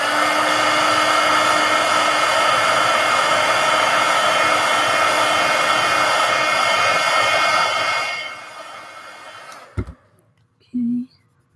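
A hair dryer blows steadily on wet paint in an altered book, a loud, close rushing whine that runs for about eight seconds, then winds down and stops. A few soft handling knocks and a brief murmur follow.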